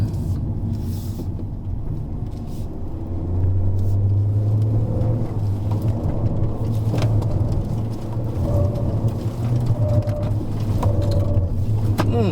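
Honda Civic RS driven hard through a slalom on a track, its engine a steady close rumble that swells in pitch as the car powers between the gates, with faint tire and wind noise over the drone.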